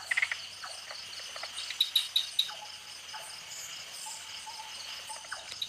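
Tree frogs and insects call through a nighttime forest, a steady high insect drone layered with a quick run of sharp, evenly spaced chirps and scattered softer croaks.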